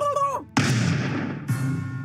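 A flintlock pistol fires in the battle game TABS: one sharp, loud gunshot blast with a trailing echo, then a second crack shortly after, following a brief voice.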